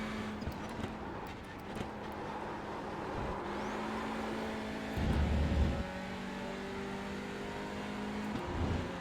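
A Hyundai Veloster N TCR touring car in the iRacing simulator, its engine droning steadily at moderate volume throughout with slight rises in pitch as it accelerates, and a couple of brief low thumps partway through.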